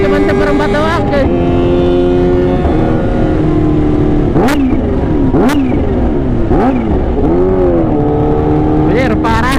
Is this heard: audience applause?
no